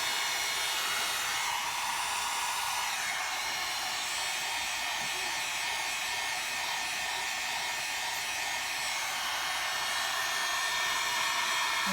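A hair dryer runs steadily and close for the whole stretch, drying stencil paint on a canvas, a loud continuous blowing whir with no pauses and no talk.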